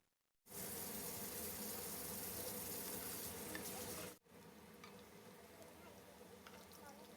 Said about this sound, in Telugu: ఇప్పుడు కొంచెం టర్న్ చేసుకొని నాలుగు పక్కల కొంచెం క్రిస్పీగానే వేయించుకుందాము